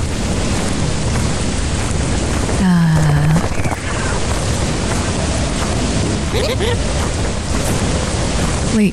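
Rain in the video game Lethal Company, a loud continuous hiss of heavy rainfall filling the whole stretch, with brief tonal game sounds and a voice-like swoop rising over it midway.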